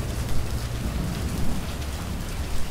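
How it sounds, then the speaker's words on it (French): Steady heavy rain pours down, drumming into a trough with a dense hiss, while low rolling thunder rumbles underneath throughout. "la pluie remplit l'abreuvoir d'une eau qui semble se mélanger au fond"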